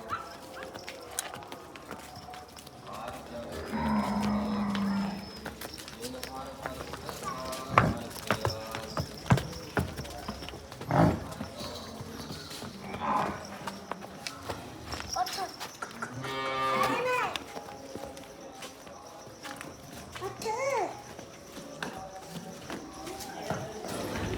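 Buffaloes and cattle low at a village farm where livestock are offered for sale, with several deep moos among hoof clatter, shuffling and a dog, while people talk throughout.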